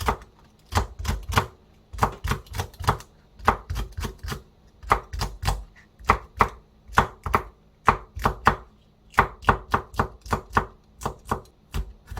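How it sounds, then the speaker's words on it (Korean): A knife finely chopping two Cheongyang chili peppers on a cutting board, rapid close taps in quick bursts with brief pauses between runs. "청양고추 두 개 정도 준비를 했어요. 쫑쫑쫑 썰어줄 거예요."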